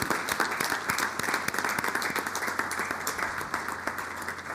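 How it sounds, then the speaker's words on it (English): A crowd at a town board meeting claps steadily, a dense patter of many hands applauding throughout without pause. "And we're just going to give a round of applause for Mr. Troy, who's over there."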